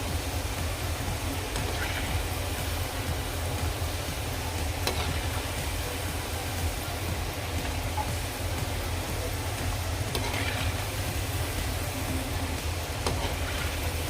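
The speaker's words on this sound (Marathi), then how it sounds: "एकसारख्या रंगावर हे फ्राय करून घ्यायचे" Slices of bread gulab jamun fry in hot oil, giving off a steady, dense sizzle that carries on alone without a break from start to finish.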